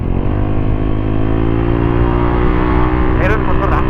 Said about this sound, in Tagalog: Meron motor ah.